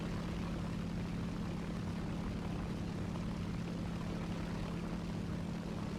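Airplane engines drone in a video game, a steady, continuous propeller hum at moderate distance with no talking.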